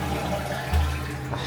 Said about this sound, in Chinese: 来看马桶的水声好了